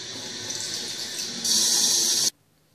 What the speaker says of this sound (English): so I'll be right back after I've washed my hands.